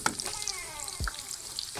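Onions hitting hot ghee in a pan, a soft steady sizzle with light crackles and a brief clatter partway through, close and without voices.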